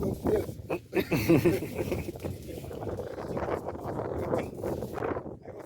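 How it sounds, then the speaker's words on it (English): Wind buffeting an on-camera microphone on top of the house decking: low rumbling gusts run throughout, with people talking loudly over them. "We're just using the microphone on the camera, so it's kind of windy"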